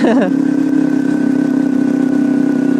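Motorbike engine fitted with an aftermarket racing exhaust, idling close by with a steady throbbing rumble after a short blip of revs at the start.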